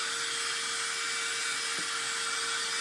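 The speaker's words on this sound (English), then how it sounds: "This is an actual hair dryer, so it's putting out warm air." A hair dryer blows steadily with a constant airy whoosh and faint motor hum, unbroken for the whole stretch, close and fairly loud.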